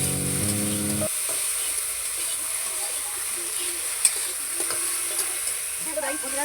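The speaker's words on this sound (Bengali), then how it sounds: "মাংসটাকে ভালো করে ভেজে দিতে হবে।" Chicken pieces frying with ground spices in a pan, a steady loud sizzle broken by occasional clinks and scrapes of stirring, with a short tonal sound at the start.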